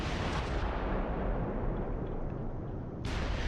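Dense gunfire and artillery rumble in the World War II strategy game Close Combat IV, a loud continuous roar of blasts without distinct separate shots, no talking.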